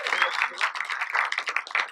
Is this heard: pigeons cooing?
no